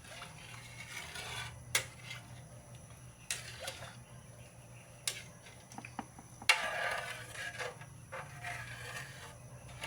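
Dinuguan being stirred in a pot gives scattered clinks and scrapes of a utensil against metal, some sharp and isolated, over a quiet kitchen background.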